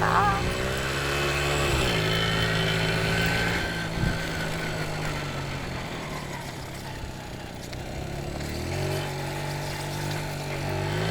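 A restored Japanese motorcycle engine runs steadily close by, its harmonic drone dipping slightly around two seconds in and rising again near the end, with people talking over it.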